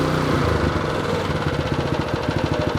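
A Toro dual-direction tiller's small engine runs at full throttle, harder and louder, its pulsing rumble quickening and strengthening with a choppy, throbbing rhythm up close.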